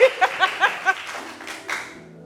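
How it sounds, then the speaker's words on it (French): In a TV dating-show studio, one man claps his hands about five times in a quick, even rhythm, close and fairly loud, and the claps then trail off into soft room noise. "Et puis lui-même, il applaudit."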